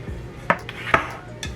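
A utensil scraping around the sides of a baked birthday cake in its pan to loosen it, heard as three or four short metallic clinks and scrapes spaced about half a second apart, close and moderately loud.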